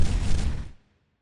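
A heavy explosion-like blast rumbles briefly and stops abruptly, leaving only a faint trace of tail.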